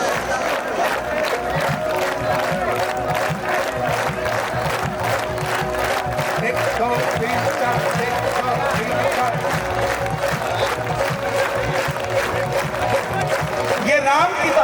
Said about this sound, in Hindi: ताली सुन लो।